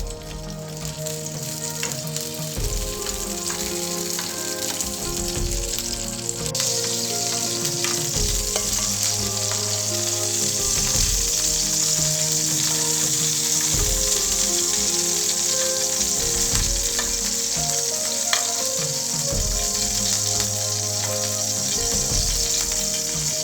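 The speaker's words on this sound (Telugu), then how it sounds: "ఆయిల్ వేడైన తర్వాత పచ్చిమిరపకాయలను ఫ్రై చేసుకోవాలి" Green chillies fry in hot oil in a pan, giving a steady, close sizzle throughout with soft scraping and stirring knocks, and a louder hiss partway through; music plays underneath.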